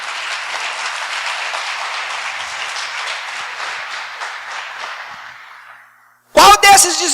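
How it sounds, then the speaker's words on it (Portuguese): Applause from a church congregation during a sermon, a steady dense wash of clapping that fades out over about six seconds, followed by a brief burst of a loud voice. "Dá um aplauso para Jesus."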